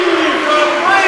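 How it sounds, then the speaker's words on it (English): A basketball crowd cheers in a standing ovation at a Macomb Bombers game against Payson-Seymour, a dense, loud roar filling the gym under a commentator's voice. "And the crowd rises to their feet in a standing ovation."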